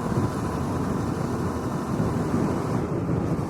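Steady, loud wind buffeting a microphone while riding a Suzuki V-Strom 650 motorcycle on route 154 near a bridge, a continuous broadband roar with no talking.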